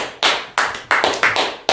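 Congregation in a French-speaking church service clapping together in praise, about six loud, evenly spaced bursts of claps in under two seconds, with no talk over it.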